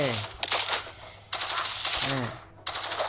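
Rapid automatic gunfire from the survival shooter game State of Survival crackles in dense, loud bursts broken by short pauses, while a voice briefly speaks underneath.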